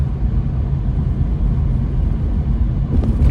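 Interior of a car driving at about 20 miles an hour, a steady low rumble of engine and road noise throughout.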